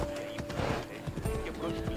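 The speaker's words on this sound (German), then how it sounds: "außerhalb der Stadt kann man auch besser reiten" Horse hooves clip-clopping in a steady trot while riding outside a city in Assassin's Creed Odyssey, close and continuous, with a voice speaking over them.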